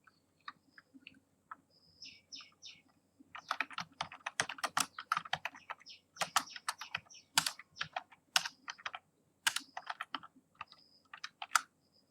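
Rapid, irregular keystrokes clatter on a computer keyboard while code is typed into the Python IDLE shell, close and steady for most of the stretch, with faint bird calls chirping in the background.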